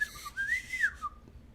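A person whistles a canary imitation: one wavering, rising-and-falling high whistled note with a brief trill, close and fairly quiet, followed by a short faint chirp.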